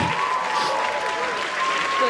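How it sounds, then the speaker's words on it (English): Brief, full audience applause at a museum evening event, steady dense clapping with a faint tonal whistle-like line and murmur beneath. "Let's give Molly a round of applause and send her back."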